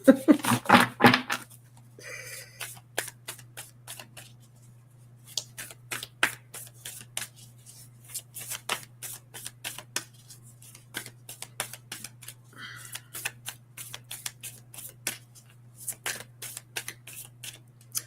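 Stiff oracle cards are shuffled by hand in a quiet room, with a quick riffle at the start followed by a long run of crisp, irregular card flicks and slaps over a low steady hum.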